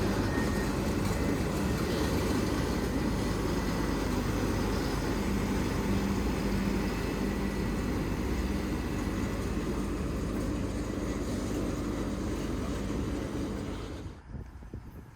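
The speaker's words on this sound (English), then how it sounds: "The Tamper then returned to work the track again now that there was more ballast to work with." A railway track tamper machine works the ballast at a level crossing under construction, giving a loud, steady mechanical rumble and clatter with wind buffeting the microphone, easing off near the end.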